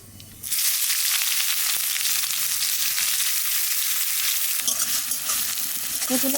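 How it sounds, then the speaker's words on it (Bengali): Chopped onions and whole black cumin hit hot oil with a sudden loud sizzle, then a sustained crackling fry with stirring scrapes, briefly shifting near the end as the pan is worked. "তেলের দিয়ে দেবো গোটা কালো জিরে এইবার দিয়ে দেবো পেঁয়াজ কুচি"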